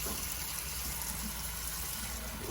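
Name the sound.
water running from a tap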